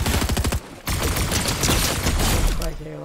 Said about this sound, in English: You don't need to keep spraying your SMG.